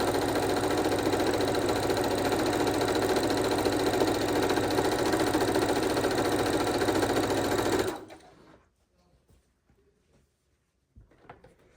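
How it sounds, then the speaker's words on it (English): A sewing machine stitching scrappy quilt blocks together runs fast and steady for about eight seconds, a close, loud mechanical whir, then stops abruptly, leaving near silence with a few faint handling sounds. "And we are sewing scrappy blocks together."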